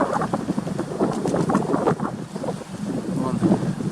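Strong wind buffets the microphone outdoors while pigeons are flown, producing loud irregular low rumbling gusts and blasts that swell and dip throughout, with faint speech underneath.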